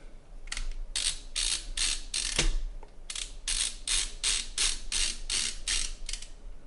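Screws on an MSI RTX 3070 Ti Gaming X Trio graphics card fan being torqued down by hand, giving a quick series of close, regular ratcheting clicks in two bursts, with no talk.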